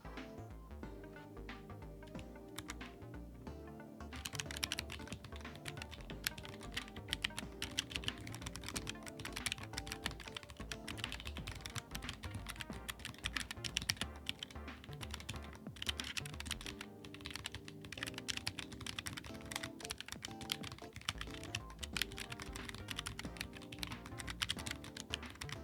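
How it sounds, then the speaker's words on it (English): Steady, fast typing on a TyperActive Corne split keyboard fitted with an aluminum case, a dense run of close, crisp keystrokes that continues throughout with no talking. "Let me do a quick typing test"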